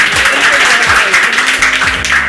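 A crowd applauds in a loud, continuous wash of clapping, with no voices over it.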